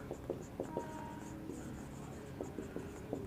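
Marker or chalk writing the solution on a board during a maths lesson, a series of short, distinct strokes and taps close by, fairly quiet with steady room hum beneath.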